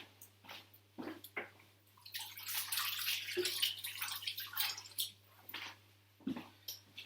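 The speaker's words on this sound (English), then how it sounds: "I'll go and give my hands a little wash" Hands being washed under a running tap in a home kitchen while bread dough is made, a steady splashing water flow that swells in the middle and eases off, with a few louder drips and clunks and no talking.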